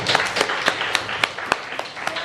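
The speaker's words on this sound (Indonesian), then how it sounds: "beri tepuk tangan buat Michelle" Junior high classmates applaud a student, with a modest scattered round of clapping in a classroom, individual sharp claps standing out in an uneven rhythm at moderate level.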